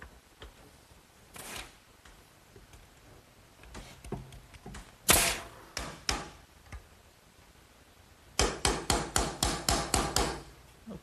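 A hammer toe-nails a wooden spacer into a garden swing in a workshop: a few scattered loud strikes early on, then a rapid run of about ten sharp, evenly spaced blows close up.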